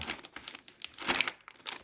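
A plastic snack bag crinkled close by, with dense bursts of rustling and crackling that swell, pause briefly and pick up again.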